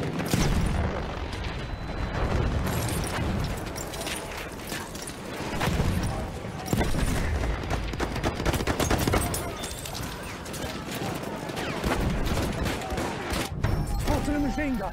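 Machine gun fire in the World War I shooter Battlefield 1, dense rattling bursts and distant booms of a chaotic battle, with shouting voices mixed in.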